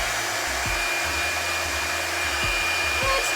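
An EZ Detangler blow dryer on low heat drying natural 4C hair gives a steady whooshing hum, close and continuous, with a few soft low thumps of handling.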